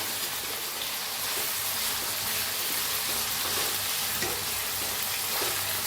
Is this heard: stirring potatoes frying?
yes